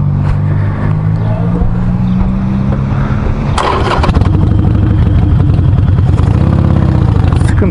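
Motorcycle engine started while in gear, a steady mid-pitched idle with an even rapid pulse that turns rougher and louder after a few seconds, close by.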